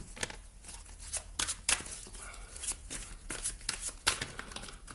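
Lise Bartoli light oracle cards being shuffled by hand, a run of papery riffles and soft slaps in irregular bursts, close and moderately loud, with no talk.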